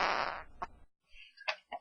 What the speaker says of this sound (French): Il s'agit d'un PET asiatique.